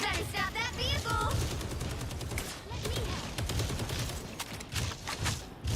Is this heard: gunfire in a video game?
yes